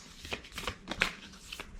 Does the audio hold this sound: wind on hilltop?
no